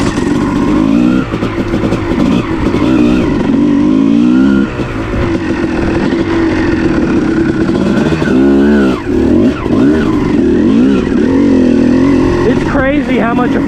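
A 2006 Kawasaki KX250 two-stroke dirt bike with a VHM head and an 11 oz flywheel weight runs loud and close on frozen winter trails, its engine droning steadily with repeated throttle blips and revs rising and falling throughout.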